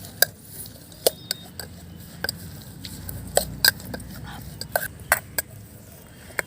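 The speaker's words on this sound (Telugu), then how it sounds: "ఉప్పు రెండు నిమ్మకాయలు రసం పిండుకొని ఇవి కూడా వేసుకోవాలి మొత్తం ఒకసారి బాగా కలిసిపోయేలా కలుపుకోవాలి" Ghotala masala being stirred by hand with a spoon in a bowl, spiced with garam masala, salt and lemon juice; close, irregular clinks and scrapes against the vessel recur every half second or so, with no talking.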